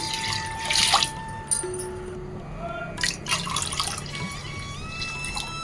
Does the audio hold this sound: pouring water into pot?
yes